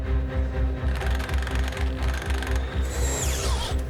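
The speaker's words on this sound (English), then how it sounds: "Pretty ballsy drill, this one." A power drill runs steadily during work on an old truck being restored, giving a rapid pulsing, rattling whir with a rising whine near the end, loud and close with no talking.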